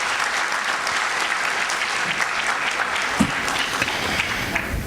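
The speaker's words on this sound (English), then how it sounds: "Let's give them a round of applause once again." A graduation ceremony audience gives a round of applause, dense steady clapping filling the hall throughout at an even level, with a few louder individual claps near the end.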